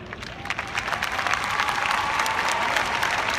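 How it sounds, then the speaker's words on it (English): Graduation crowd at Langston Hughes High School applauding families, clapping that builds from scattered hands into a dense, loud ovation with some cheering mixed in. "it is imperative that we give a round of applause to all of our respected families"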